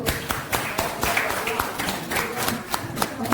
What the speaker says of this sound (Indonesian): Tepuk tangan untuk semua Bapak Ibu.